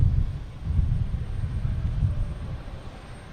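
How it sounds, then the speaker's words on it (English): A JetBlue Airbus A320 arriving at Boston Logan from Orlando gives a deep, steady engine rumble with wind buffeting, loud at first and easing slightly as the landing jet passes. "It is a JetBlue coming in from Orlando."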